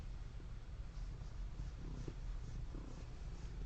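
A cat purring steadily while being petted: a close, soft, continuous rumbling purr with no talk over it.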